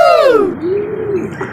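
Young pigeons coo nearby in a clear, falling then gently rising call that trails off, with soft background hum and no talk.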